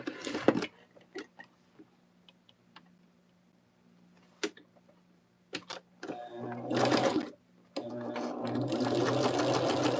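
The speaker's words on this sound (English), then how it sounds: "We're going to sew 1/4 inch on either side, and then we're going to do the same thing on this side." A sewing machine stitches quilt fabric along a quarter-inch seam in short bursts and then a longer steady whirring run close up, with soft handling clicks and brief pauses between runs.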